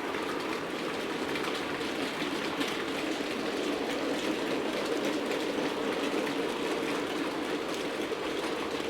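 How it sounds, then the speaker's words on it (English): A Heljan Class 54 model locomotive hauls a heavy freight train, producing a steady, even rolling rumble with faint rhythmic clicking and no voices. "the loco pulling the heavy freight train"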